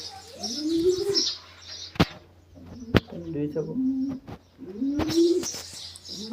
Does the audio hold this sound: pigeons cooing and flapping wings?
yes